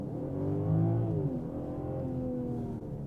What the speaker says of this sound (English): 540i, 3 liters, 6-cylinder, 335 horsepower.